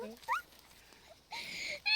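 Dog whimpering inside a converted bus, with a few high, rising whines, some close and some sharper, separated by quieter stretches and accompanied by a brief murmur of speech.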